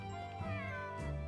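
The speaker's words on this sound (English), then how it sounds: "Cat says meow." A cat meows in the video game Suikoden 5, a short, faint call over steady tonal game music.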